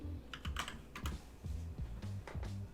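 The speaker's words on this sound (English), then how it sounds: "for the last thing, you're going to type in MSConfig" Fingers tap out an irregular run of clacking keystrokes on a computer keyboard, close and crisp, with no one talking.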